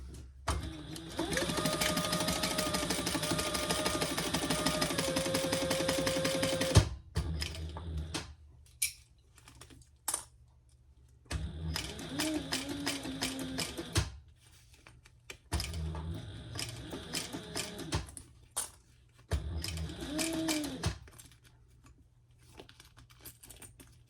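A sewing machine stitches a seam on a Jasper Sling bag in a loud, steady run of about six seconds, then comes back in three shorter bursts separated by quiet pauses.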